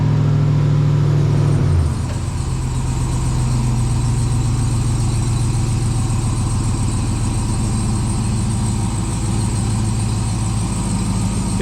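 A Ram TRX pickup fitted with a leveling kit and rear spacers runs its engine loud and close, with a heavy low surge that settles into a steady, rumbling idle as the truck gets ready to pull out.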